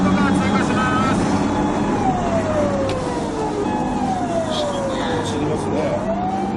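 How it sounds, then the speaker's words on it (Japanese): Police car siren wails as the vehicle passes during a pursuit, its pitch sliding steadily downward in a clear Doppler sweep over loud traffic and road noise, with a voice speaking over it. "パトカー通過します。パトカー通過します。"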